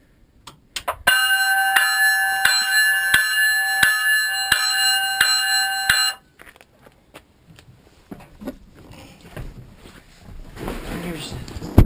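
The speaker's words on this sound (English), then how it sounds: "you got to have a bell if you got a whistle" A loud bell on a 1959 GMC Cannonball truck with a Detroit Diesel rings steadily for about five seconds, then stops, leaving scattered clicks, mechanical noises and a little talk.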